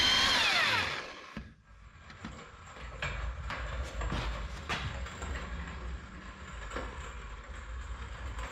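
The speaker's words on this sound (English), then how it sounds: "So I'm going to have to drill them out." A power drill bores out seized skid plate bolts on a Toyota FJ Cruiser, with intermittent close grinding bursts and clanks over a low workshop rumble after a loud opening whir.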